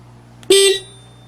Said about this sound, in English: we can press the first button and honk the horn